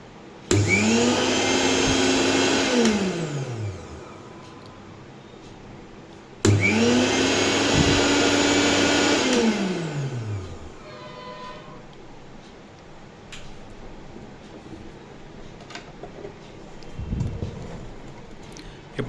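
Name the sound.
repaired mixer grinder running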